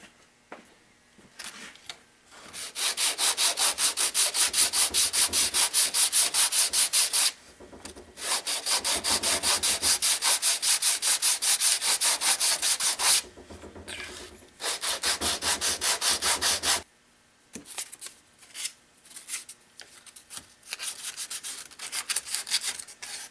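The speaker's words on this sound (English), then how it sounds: "We'll take it down the rest of the way with sandpaper." Sandpaper rubs back and forth on wood in long steady bursts, a close, bright rasping hiss that pauses briefly between passes and ends in shorter scattered strokes.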